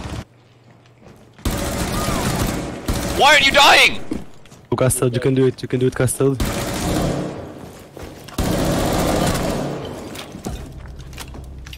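Bursts of automatic gunfire punching through a wall in Rainbow Six Siege, several loud rapid volleys with short gaps between them, mixed with excited shouting from players.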